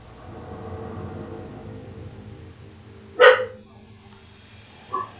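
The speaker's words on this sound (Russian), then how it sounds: "И как громко лает моя собака." A single loud, sharp dog bark cuts through a low droning background, followed a moment later by a fainter, shorter yelp.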